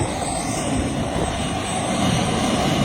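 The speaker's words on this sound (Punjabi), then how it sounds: "ਹੈਲੀਕਾਪਟਰ ਹੈ" A steady engine drone from a crop-spraying helicopter working over farm fields fills the clip, loud and continuous with rushing wind, no speech.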